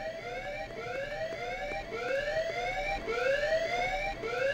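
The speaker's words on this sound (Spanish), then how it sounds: "Ha saltado la alarma de incendios" A fire alarm wails in the office level of Hitman 2: Silent Assassin, a repeating rising electronic siren that sweeps upward about once a second, steady and moderately loud, with no voices over it.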